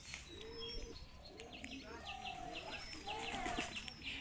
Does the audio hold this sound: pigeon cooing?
yes